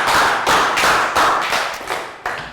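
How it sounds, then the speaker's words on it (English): A class of young pupils claps for a classmate at the close of a maths lesson, a burst of quick bright handclaps near the microphone that swells in waves and tapers off over a couple of seconds. "Round of applause,"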